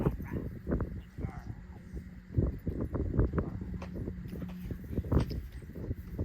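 Retriever dog whimpers and yips during a training session at a pond, short scattered vocal bursts amid rustling and handling noise, with a person speaking briefly.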